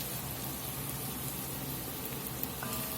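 Flour frying in fat inside a stew pot for a hearty cowboy stew, giving a steady, even sizzle like light rain that holds at the same level throughout with no voices.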